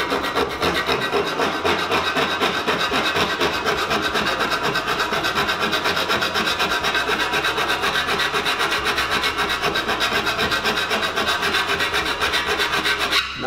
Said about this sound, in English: We're going to do this using our file.